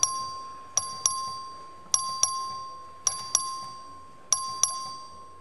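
A voting bell in the Texas House chamber rings in repeated paired strokes, each bright ding ringing out and fading before the next pair, five pairs spread evenly across the stretch with no talking over it.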